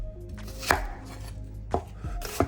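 Fresh scallion chopped with a knife on a board: three distinct, sharp chops spaced about a second apart, close and clear over a quiet background.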